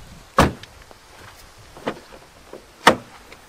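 A door on a Skoda Octavia micro camper is handled, with three sharp close knocks or latch clunks spaced about a second and a half apart and quiet between them.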